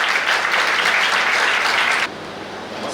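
A wedding crowd gives loud, energetic applause to welcome Reverend B.D. John, dense clapping that abruptly drops to a softer, thinner level about two-thirds of the way through.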